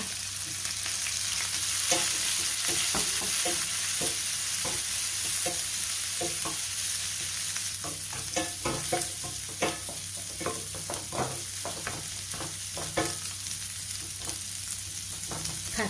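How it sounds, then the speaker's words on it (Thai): Chopped garlic and softened dried shrimp sizzle in a pan with a constant hiss while a utensil scrapes and stirs in quick, irregular strokes, close by. "ผัดกระเทียมให้เหลืองหอมนะคะ ตามด้วยกุ้งแห้งค่ะ"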